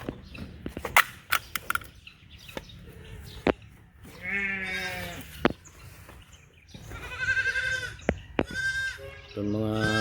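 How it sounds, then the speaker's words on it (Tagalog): Goats and sheep bleat repeatedly in a farm pen, with several loud, close, wavering calls spaced across the clip, mixed with sharp knocks and clatter between them. "Itong mga kambing at saka karnero mga kaibigan."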